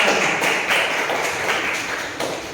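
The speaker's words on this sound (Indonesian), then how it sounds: "Kita kasih aplaus untuk kelompok" Classroom applause for a student group, a dense, continuous patter of many hands clapping at once, loud and steady throughout with no talking.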